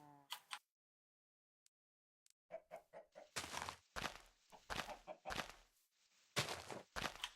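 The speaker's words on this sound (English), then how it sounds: "Guess what I found? Chickens?" Blocky chickens in Minecraft cluck in a series of short, clipped bursts, a few isolated at first and then grouped in quick clusters, with silent gaps between.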